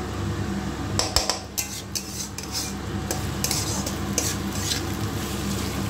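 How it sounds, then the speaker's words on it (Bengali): Rice stirred and fried in a pan with a little oil for chal potol, with repeated metal spoon scrapes and clinks against the pan over a steady low sizzle, close and clear. "চালটা কিন্তু ভাজা করতে হবে"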